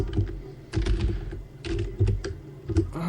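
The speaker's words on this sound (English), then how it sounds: "I'm going to look up Jeff Fisher's stats here, as I'm going to clickety-clack." Typing on a computer keyboard, heard as a close, steady run of quick plastic key clicks with a few heavier thumps, alone and without speech.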